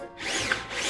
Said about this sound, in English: Now, I'm drilling something.